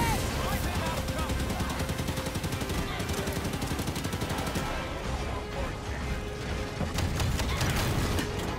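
Continuous heavy gunfire in Halo 5: Guardians, dense rapid automatic bursts and blasts in a loud, unbroken firefight, with a voice talking faintly underneath.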